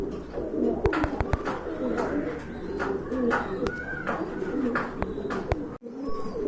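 Pigeons at a market stall coo in soft, repeated low calls, with a few sharper clicks and shuffles nearby. Muffled voices murmur faintly in the background.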